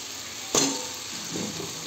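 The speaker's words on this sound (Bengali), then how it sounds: "এবার এর মধ্যে দিয়ে দেবো ভালো করে ধুয়ে রাখা মাংসগুলো।" Washed meat drops into a sizzling pan of spice paste with ginger and yogurt, giving a sudden loud hiss that fades into a steady frying crackle, followed by a brief stir.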